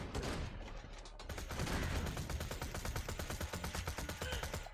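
Rapid bursts of gunfire from a slag gun in Borderlands 2, a fast, evenly spaced stream of close, loud shots that keeps going almost without pause over layered game noise, with no talking.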